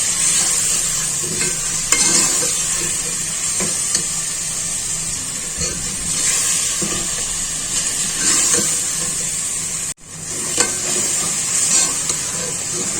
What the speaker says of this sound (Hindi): ये हम डाल रहे हैं लहसुन अदरक का पेस्ट।